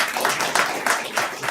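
Clapping breaks out in a city council meeting room, a short wash of applause from the audience that swells in several quick pulses.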